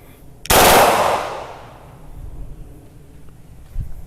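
A BLOW TR 14 blank gun fires a single loud, close shot with a sharp crack that rings out and decays over about a second, followed by faint handling noise.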